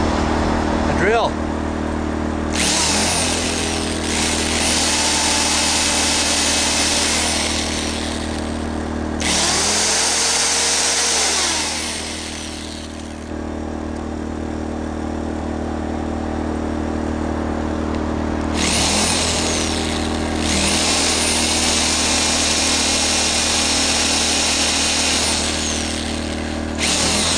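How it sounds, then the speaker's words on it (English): Electric drill powered by a Predator 2000 W inverter generator whines loudly in long bursts, stopping and restarting, over the generator's constant engine hum close to the microphone. "A drill."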